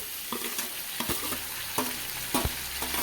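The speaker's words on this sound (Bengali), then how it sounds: "এখন আমি উপর থেকে ম্যারিনেট করে রাখা মাছটা দিয়ে দিচ্ছি" Marinated mourola fish added to browned potatoes in a pan, giving a steady close sizzle of frying broken by several sharp scraping stirs.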